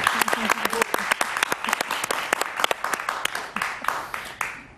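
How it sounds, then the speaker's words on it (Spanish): Studio audience applauding a singer on a television show, sharp close claps in a lively burst that tapers toward the end, with voices speaking over part of it. "Un aplauso para él, por favor."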